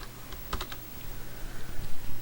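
Light, close taps on a computer keyboard during Excel work, a short cluster of quick keystrokes over faint room noise, with no talking.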